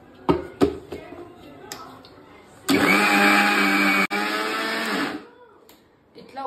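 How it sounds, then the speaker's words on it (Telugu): Electric mixer grinder kneading chapati dough of flour, salt and water, a steady loud whirring motor hum running for about two and a half seconds with a brief break midway, preceded by a few knocks and handling sounds. "ఇట్లా ఒక 45 సెకండ్స్ మిక్సీకి వేసేయాలా"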